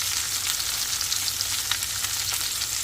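Seer fish slices fry in hot oil with curry leaves, giving a steady, fairly soft sizzle scattered with small crackles and pops and no voices.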